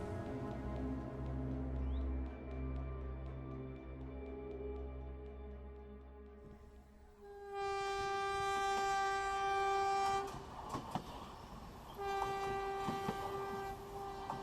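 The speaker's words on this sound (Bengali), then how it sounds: "যখন আমাদের ট্রেনটা মহানগরের সীমানা ছাড়ল" A passenger train pulls out of Howrah station and leaves the city, its rumble rolling beneath sustained horn blasts that swell louder partway through.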